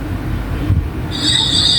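Train running past on rail tracks, a loud low rumble with a bright steady wheel squeal rising partway through; a dog is near the tracks.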